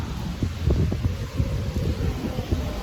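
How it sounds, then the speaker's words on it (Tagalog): Strong wind buffets the microphone outdoors during heavy rain, a rough, rumbling roar with gusty low thumps, close and continuous. "Ang lakas ng hangin."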